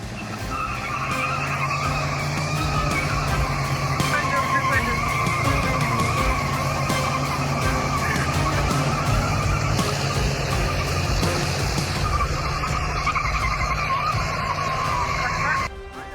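A tractor drags a pickup truck across a road, its tires skidding and scraping in a loud, continuous grinding squeal under rumbling engine noise for the whole stretch, easing off only at the very end.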